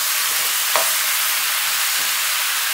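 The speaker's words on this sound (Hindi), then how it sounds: "मिक्स कर लेते हैं अच्छे से।" Pumpkin sabzi stirred in a hot pan, a continuous bright sizzle with one faint scrape of the spoon, close and steady throughout.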